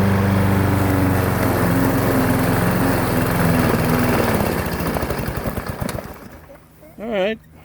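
A push lawn mower with a 6.75 Briggs & Stratton engine runs loud and close, its rough throbbing note labouring and sputtering out before cutting off, followed by a short voiced sound near the end.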